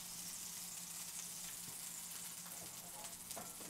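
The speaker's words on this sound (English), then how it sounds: "Frying an egg in butter is just the best." Butter and an egg sizzle and crackle in a hot skillet, a faint, steady frying hiss with scattered small pops, heard alone without talk.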